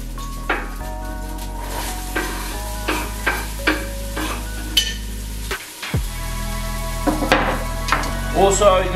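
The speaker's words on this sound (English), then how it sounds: "Put a slab of butter in there, bit of oil, and just gonna brown up these onions." Onions browning in butter and a bit of oil in a pan, a loud, close sizzle broken by regular scraping stirs and pan knocks, with a brief dip near the middle and a busier burst of spattering at the end.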